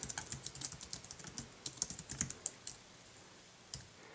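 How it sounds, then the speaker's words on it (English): Rapid typing on a keyboard connected to an iOS device while entering text in the Notes app, a steady run of close, crisp key clicks that thins out to a few scattered taps near the end. "Let's type something in."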